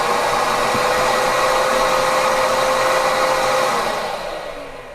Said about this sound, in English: the vac starts up. So you can turn on and off the vac from the handle of the 40 volt miter saws.